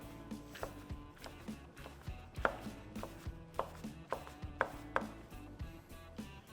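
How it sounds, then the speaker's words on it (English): A knife chops through smoked pulled chicken with skin and big chunks, a quick series of moderately loud thuds on a cutting board in an irregular rhythm, with no talk. "I'm gonna hit it just with my knife just a little bit"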